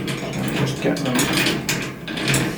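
Threaded bolts being turned into a metal festival trolley garden cart frame, close ratcheting clicks and metallic scraping in uneven bursts, with occasional speech nearby.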